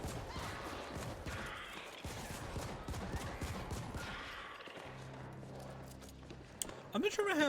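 Gunfire in the video game The Ascent, rapid bursts of shots crackling through the first half, moderately loud, mixed with game effects and a voice speaking.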